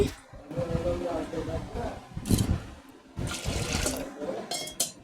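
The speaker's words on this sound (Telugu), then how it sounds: "కుక్కర్లో వేసుకొని దాన్ని అయితే శుభ్రంగా వాటర్ పోసుకుని అయితే కడిగేసుకోవాలి" Water splashes and swishes in bursts inside a pressure cooker as it is rinsed out, with a person talking over it throughout.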